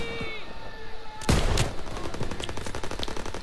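Gunfire in Call of Duty WWII during the retaking of Paris, with a loud sharp shot followed by a rapid stream of crackling automatic fire amid a busy battle mix.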